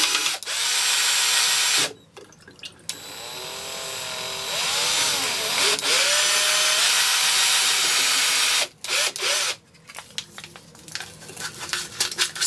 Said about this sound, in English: We'll get our sulfite packet here. Add it in and stir vigorously.